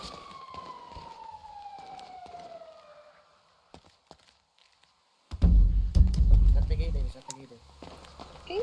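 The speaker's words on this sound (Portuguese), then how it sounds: "Quem que é essa sirene?" A descending siren wail in a video game sounds for a few seconds, fading away, followed by silence and then a burst of loud rumbling noise.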